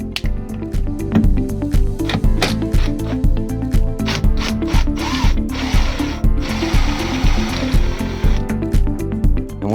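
A power tool whirs in short bursts and sustained runs, with clicking and grinding as screws are driven out of a Hoshizaki undercounter prep table door, close and fairly loud.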